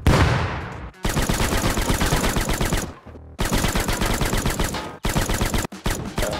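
Rapid automatic gunfire in the survival game Rust during a raid on a base, sustained loud bursts of shots with short pauses between volleys, rattling on with no talk.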